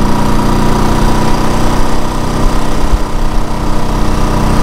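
An overhead-cam motorcycle engine from an older era runs steadily nearby, a loud continuous throbbing idle with a low rumble and mechanical vibration, alone without voices.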